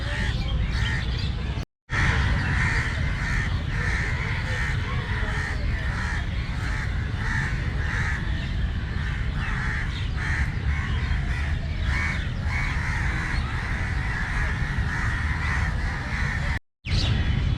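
Crows cawing among a large flock of storks at the Victoria Memorial in Kolkata, with repeated harsh caws from several birds overlapping in a steady, busy chorus at moderate distance, broken by two short dropouts.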